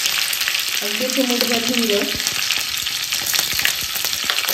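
Cumin seeds and finely chopped green chillies sizzle steadily in hot oil in a pan as a tempering is made, giving a continuous bright crackle throughout while someone speaks briefly over it.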